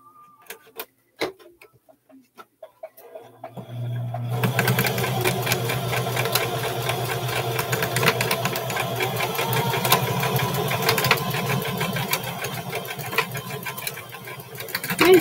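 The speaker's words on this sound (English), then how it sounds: "We're going to go ahead and stitch this top part down. And I'm just going to put it on a zigzag stitch." Sewing machine running a zigzag stitch along the top of short pants, preceded by a few scattered clicks and handling taps, then a steady loud mechanical whir with rapid needle ticking for over ten seconds.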